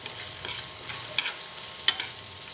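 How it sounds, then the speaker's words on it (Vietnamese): Pig spleen and okra stir-fried in a pan: a steady soft sizzle with scattered scraping stir strokes and a few sharper utensil clicks, close and fairly quiet, with no voices. "Xào chín nha mọi người."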